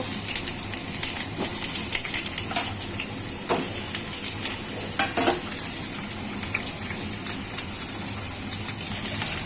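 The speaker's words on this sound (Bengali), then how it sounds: "একেবারে এই সব আলুগুলো দিয়ে ভেজে নেব।" Potato pieces fry in oil with salt and turmeric for a mutton curry, a constant close sizzle with scattered clatters and scrapes of stirring, no speech.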